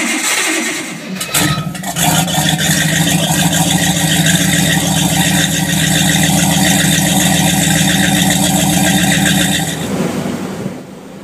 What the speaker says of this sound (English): they're going to take a little bit of persuading to start